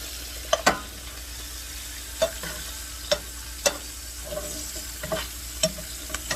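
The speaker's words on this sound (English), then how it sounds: "We're going to keep cooking the fish." White bass fillets cook skin-down in a pan of browning butter, giving a steady low sizzle broken by sharp pops and spatters at irregular intervals.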